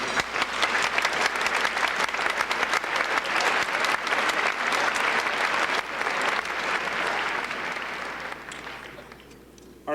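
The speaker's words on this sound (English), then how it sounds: "And now a round of applause for this distinguished group." A dense, loud round of audience applause for a distinguished group at a formal dinner event, sustained evenly for several seconds before tapering off toward the end.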